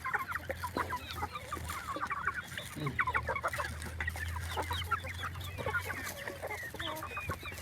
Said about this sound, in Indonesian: seperti ini kalau miara ayam kampung telur